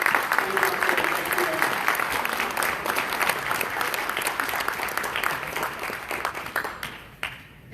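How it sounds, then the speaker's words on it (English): Gala audience applauding for the College of the Desert, a dense, sustained round of clapping from a large crowd that holds steady and then tapers off near the end. "How about one more big round of applause there for the College of the Desert?"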